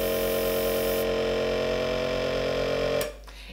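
A small airbrush air compressor hums and whirs steadily at close range, then cuts off abruptly near the end, leaving a faint hiss.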